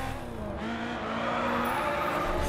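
Honda S2000 race car drifting in the racing game GRID 2, a steady loud engine drone with tire squeal rising and falling throughout, no talk.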